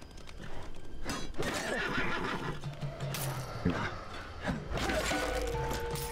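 A horse neighs and whinnies amid clip-clopping hooves and clattering sounds in the video game Apotheon, fairly loud and busy throughout.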